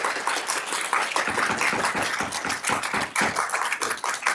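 An audience at a city council meeting breaks into dense, sustained applause, with many hands clapping loudly and continuously for several seconds.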